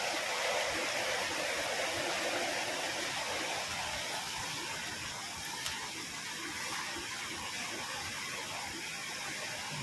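A creek swollen by hours of flooding rain rushes past farmland, a continuous broad hiss of flowing water, close and steady with no pauses.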